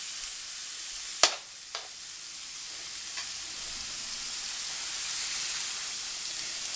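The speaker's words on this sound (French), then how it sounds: "Alors là, je le fais cuire à la plancha" Chicken for gyros cooking on a plancha, a steady bright sizzle and hiss of frying with a couple of sharp taps from a utensil early on, close and continuous.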